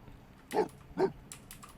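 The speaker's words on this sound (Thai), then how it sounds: "อันนี้ก็ยืนเห่าอยู่นั่นแหละ" Two short barks from a dog in The Sims 4, spaced about half a second apart at moderate level, followed by faint clicking in a quiet game scene.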